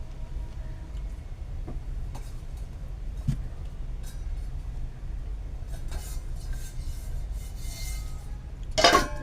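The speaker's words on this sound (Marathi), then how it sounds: "याच्यावरती मी आता ठेवणार आहे झाकण." A metal lid goes onto a pot of peanut amti on the stove, giving a single short clink near the end after a quiet stretch of faint kitchen background.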